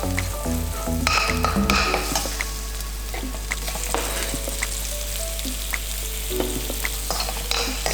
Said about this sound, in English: Put our red curry paste in and cook out the rawness of the curry paste.